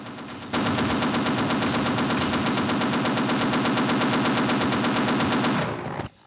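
Continuous machine gun fire in the Half-Life mod Field Intensity, loud and close, a rapid unbroken stream of shots lasting about five seconds before stopping abruptly into a short fading tail.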